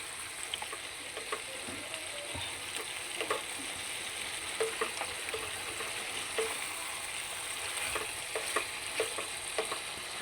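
Pigeon curry is sautéed in a pan with a soft, steady sizzle, broken by intermittent crackles and the scrape of stirring.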